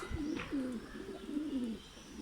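Soft, low cooing from a wild pigeon, a few gentle throaty calls in a row, fairly close and quiet.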